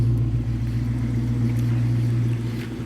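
Steady low engine rumble from a car on its first spring drive after a clutch adjustment, holding an even drone close by for the whole stretch, easing slightly at the end, with no talk.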